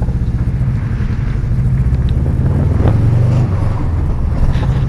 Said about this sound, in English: Turbo noises, hey.